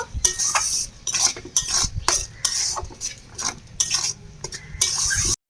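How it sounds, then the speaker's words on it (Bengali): Spices, chilli powder and salt being stirred into chilli paste for a Bengali fish curry, heard as close, rhythmic scraping strokes of a spoon against a pan, repeating steadily with brief pauses between them. "সমস্ত উপকরণ দিয়ে খুব ভালো করে মিশিয়ে নেব"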